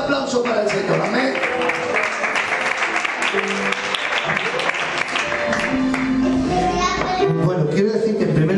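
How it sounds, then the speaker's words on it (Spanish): A church congregation claps together after a call to praise the Lord, a sustained round of applause with voices and children's chatter mixed underneath. "Un fuerte aplauso para el Señor."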